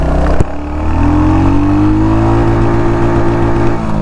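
A Royal Enfield Hunter 350 motorcycle pulls away in first gear, engine note rising steadily into a loud, sustained rev after a sharp clunk at the start, heard up close.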